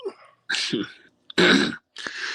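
A person coughs and clears their throat in several harsh, loud bursts close to the microphone, with brief silent gaps between them.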